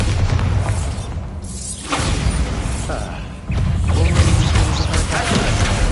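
A Bombarda blasting spell in Hogwarts Legacy goes off with loud booming blasts and crashing debris, several bursts in a few seconds amid dense game noise, with talk over it.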